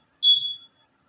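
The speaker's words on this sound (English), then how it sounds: "So when you go straight to your face, then the alarm will give you buzzes." Smart wristband alarm that goes off when a hand nears the face, giving one short, bright electronic buzz of about half a second, loud and close, with no other sound around it.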